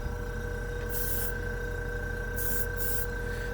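An airbrush sprays bursts of air and acrylic hobby paint in three separate hisses, one long and two short, over the steady hum of a nearby compressor running throughout.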